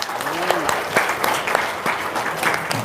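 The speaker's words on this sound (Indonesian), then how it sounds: "tepuk tangan dong" A burst of clapping from an audience at a talk-show style event, dense and lively across a few seconds, with a voice speaking over it.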